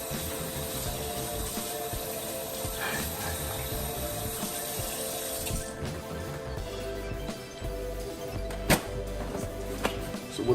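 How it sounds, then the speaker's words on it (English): Running tap water at a kitchen sink while hands are washed with soap, a steady splashing stream that softens partway through, followed by a few small knocks and clinks. "You ain't got all day to wash your hands."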